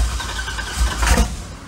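A totaled Corvette's engine cranks in a short starting attempt, a loud low churning rumble that swells briefly before easing off.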